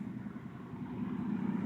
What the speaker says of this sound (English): Sorry about the noise, we're kind of close to the road here